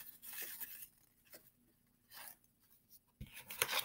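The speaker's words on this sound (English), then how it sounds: "I'm going to put tape" Tape being pressed and rubbed onto the back of a handmade craft troll, giving a few short scratchy bursts with quiet gaps between them, close and fairly soft.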